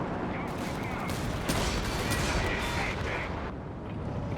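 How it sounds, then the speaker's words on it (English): A Land Mattress rocket artillery barrage in the Company of Heroes 3 game makes a dense, continuous roar of overlapping blasts and rumbling impacts that stays loud throughout, with a voice talking over it. "Actually a good barrage from the land mattress."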